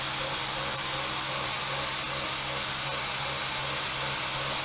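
A milling machine roughs out an annealed steel knife blade with a 1/4 inch 8-flute cutter, giving a steady, loud broadband machining roar with a constant low hum throughout and no talk.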